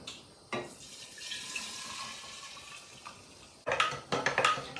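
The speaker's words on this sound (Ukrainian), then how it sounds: "І заливаємо наші інгредієнти нашим спиртовим розчином, який вийшов." Alcohol solution poured over ingredients for a pepper tincture: a soft trickling pour at first, then a louder splashing gush with clinks near the end, close by and with no talking.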